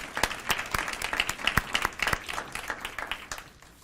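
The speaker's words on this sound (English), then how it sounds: "A big round of applause for these beautiful locations." An indoor audience at a community beautification awards ceremony claps in a brisk, dense round of applause with several sharp individual claps standing out, tapering off toward the end.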